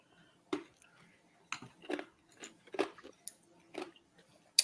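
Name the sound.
chewing on ice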